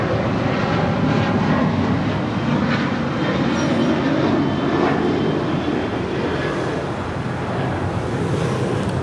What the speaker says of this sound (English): Alaska 1446 departing to Los Cabos on the 737-900ER